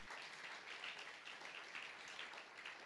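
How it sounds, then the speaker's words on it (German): Audience applause in a hall during a sermon, a steady, dense wash of many hands clapping, faint and distant, lasting throughout. "Ihr dürft hier klatschen."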